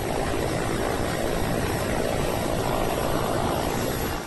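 Steady, loud rotor and engine drone of rescue helicopters flying over a flood zone, a continuous broadband roar with no pauses and no voices.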